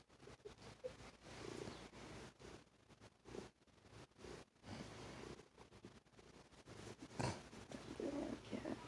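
A male cat purring close by, a low continuous rumble with soft breathy pulses running throughout, broken by brief rustles and a sharper noise near the end.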